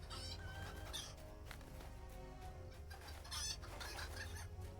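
Chickens clucking in the video game Lord of the Rings Online, several birds with busy, overlapping clucks and a low steady game hum underneath, a brief louder burst near the middle.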